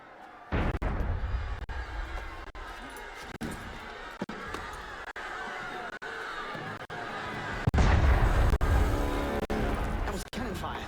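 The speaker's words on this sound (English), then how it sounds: "That was cannon fire." Cannon fire in the Assassin's Creed Unity video game booms heavily at the start and again later, deep and loud, under speech and restless crowd noise.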